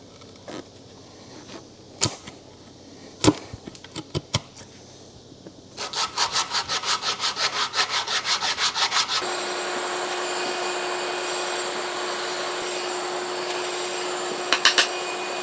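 A handsaw trims overhanging plywood on a workbench. A few scattered knocks come first, then a rhythmic run of quick back-and-forth strokes, then a steady continuous rasp, all close and fairly loud.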